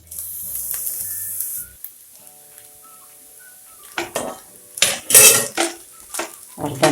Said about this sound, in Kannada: ಈಗ ಮಿಕ್ಸ್ ಮಾಡ್ತಾ ಇದ್ದೀನಿ ಶೇಂಗಾ ಬೀಜ ಎಲ್ಲ